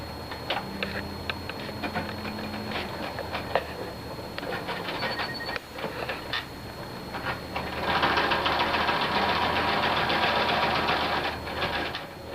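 A sewing machine running a straight stitch along a folded pocket edge on a fabric surgical cap, a fast steady mechanical whir with clicking, pausing briefly and speeding up near the end, close and alone.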